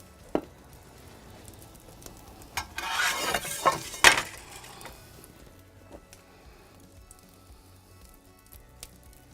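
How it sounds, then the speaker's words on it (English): Olive oil is poured generously into a warming pan for wood-fired socca, a chickpea pancake, giving a brief sizzling, spattering burst in the middle with a few light clinks of metal around it. "The pan's getting nice and warm, so I'm going to add the olive oil at this point"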